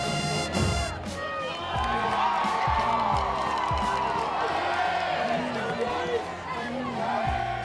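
A raucous Wake Forest football crowd cheers in the stands as Winston-Salem State's band plays, a loud, dense roar of voices with shouts and whoops running steadily throughout.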